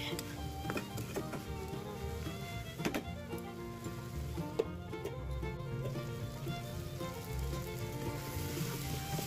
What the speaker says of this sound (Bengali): ভালো করে একদম মশলার সাথে মাখিয়ে সুন্দর করে কষিয়ে নেব ভালো করে, যাতে আলু আর পেঁয়াজ কলিটা একদম নরম হয়ে যায়